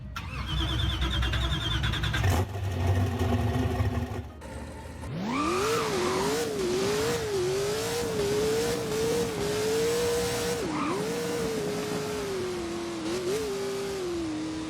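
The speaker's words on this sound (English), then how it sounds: "those downshifts sound pretty good" A Hennessy Venom F5 Revolution Roadster in the video game Driving Empire starts up, then a loud engine note rises and falls through repeated revs and downshifts, running continuously with no speech.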